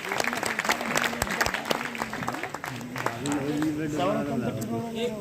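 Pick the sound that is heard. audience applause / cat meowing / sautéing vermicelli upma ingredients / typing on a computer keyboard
audience applause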